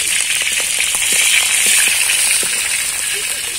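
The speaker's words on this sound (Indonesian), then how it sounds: "Telur asin goreng baru kali ini bro ya." A salted duck egg fries in a pan, giving a steady, loud sizzle and hiss with scattered small crackles and pops throughout.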